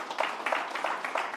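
Brief applause from a conference audience at an event on renewable and hydrogen energy, a modest crowd clapping with an uneven pulsing rhythm at moderate distance.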